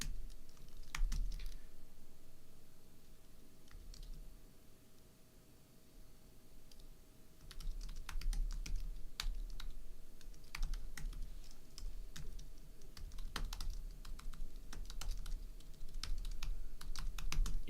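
Computer keyboard typing in bursts of quick, irregular clicks, some flurries denser than others, over a steady low hum, with no talking.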